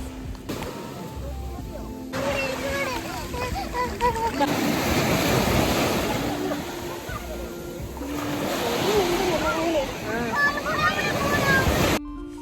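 Surf rolls and breaks in long swells on a Ras Al-Khaimah beach, rising and fading, with wind buffeting the microphone and voices talking faintly in the background.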